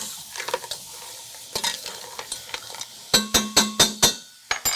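Littleneck clams being tossed through aromatics in a hot pan while making corn chowder: a series of close clattering shell clinks and scrapes over a soft sizzle, with a quick burst of rhythmic rattles near the end.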